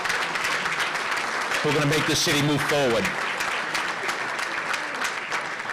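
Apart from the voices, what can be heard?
round of applause for the young people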